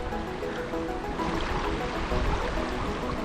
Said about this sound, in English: And then it goes over a little waterfall.